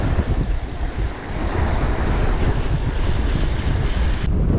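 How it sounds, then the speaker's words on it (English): Sea swell rolling onto the UK coast in rough, windy weather while lure fishing for pollack, a steady broadband roar of surf mixed with gusting wind buffeting the microphone, loud and continuous throughout with no voices. "And then the swell's picking up."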